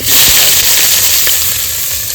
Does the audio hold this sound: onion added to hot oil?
yes